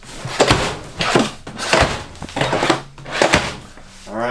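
Wooden drawers in a 2020 Grand Design Transcend 29TBS RV slide open and shut several times in a row, each pass ending in a solid thunk, close by with no talking.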